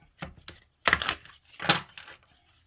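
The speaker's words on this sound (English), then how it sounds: "just a couple more shuffles" An Isis Oracle card deck being shuffled by hand: several short, papery riffling bursts, close and fairly quiet, with brief pauses between them and no talking.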